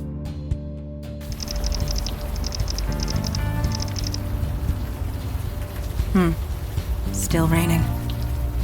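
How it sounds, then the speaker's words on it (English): Rain falls steadily as ambient game audio in the adventure game Unavowed, a constant soft hiss layered with music and occasional chirping effects, with no talk over it. "Still raining."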